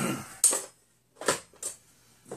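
A pan holding toasted bannock is set back onto a stove top, giving a few separate metallic clanks and scrapes with short quiet gaps between them, close by and with no voices.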